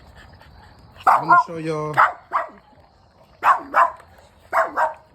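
An American bully puppy gives a few short, sharp yips and barks in separate bursts, close by, mixed in with someone talking nearby.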